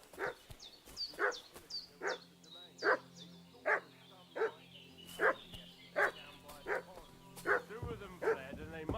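A dog in the Kingdom Come Deliverance II game barks repeatedly in a steady, evenly spaced series of about a dozen sharp barks at moderate distance, with faint background ambience.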